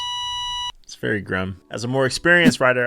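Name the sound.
electric skateboard safety beep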